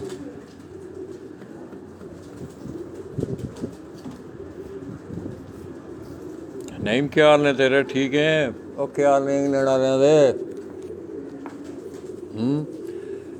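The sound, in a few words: pigeons cooing in a loft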